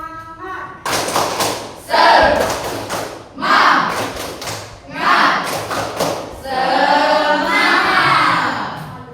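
A classroom of students doing a rhythmic group spirit clap, with loud bursts of clapping and thumping in patterned rounds, mixed with children's voices calling out.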